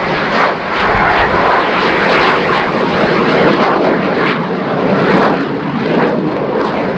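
A Swedish Air Force Saab Gripen jet flies at an air show, its loud, continuous broadband roar filling the air without pause.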